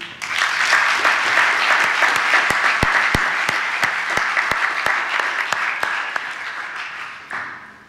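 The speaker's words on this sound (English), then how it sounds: "Can we get a round of applause for them" An audience applauds the organizers of a community event, a dense, loud burst of clapping that holds steady for several seconds before tapering off, with a few sharper claps standing out.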